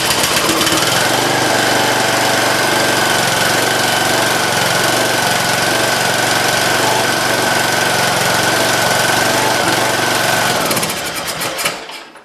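A small engine on a cheap zero-turn mower with a carburetor fuel-delivery problem runs loud and steady with a rough, buzzing drone, close up, then cuts out near the end.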